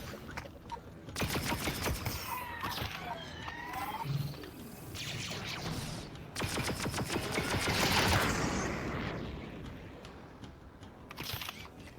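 Rapid bursts of blaster fire in a Star Wars video game, crackling volleys in several dense clusters with short gaps between them and faint game effects underneath.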